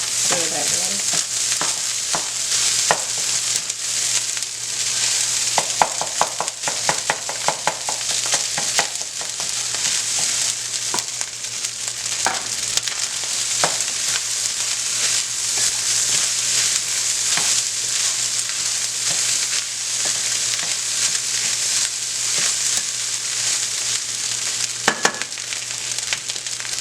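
Beaten eggs frying in a pan give a steady, bright sizzle throughout, with scattered scraping and tapping as they are stirred close by.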